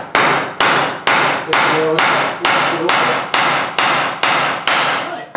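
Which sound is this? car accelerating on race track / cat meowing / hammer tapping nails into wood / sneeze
hammer tapping nails into wood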